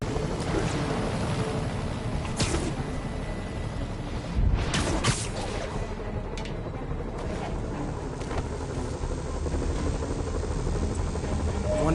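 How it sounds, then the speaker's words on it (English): Helicopters fly over a city in the Spider-Man video game, a steady rotor drone with whooshing swells, loud and continuous throughout. "Bet I can use those helicopters to swing."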